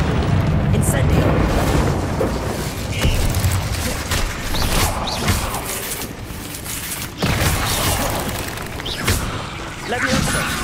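In Hogwarts Legacy on PlayStation 5, the Incendio fire spell erupts in loud whooshing, booming bursts of flame with rumbling impacts that keep surging over several seconds, layered with game voices and effects.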